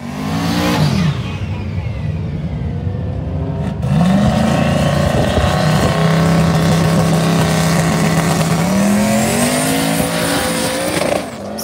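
A diesel drag truck launches down a drag strip on 10 pounds of boost, its engine roaring loud and close through rising gear pulls with a shift and a bogging, lugged note before pulling away again.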